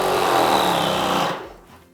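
Wagner Control 150M airless paint sprayer pump running in prime position, a loud close mechanical buzzing hum that holds steady for about a second and a half before tailing off.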